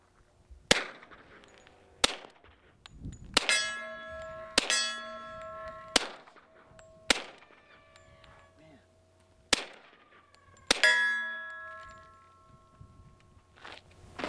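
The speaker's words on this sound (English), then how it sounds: "the steel is so much louder than the gun itself." Quiet suppressed gunshots followed by loud, bright clangs of steel targets ringing out with long metallic tails, about nine hits at irregular intervals, the steel far louder than the muffled shots.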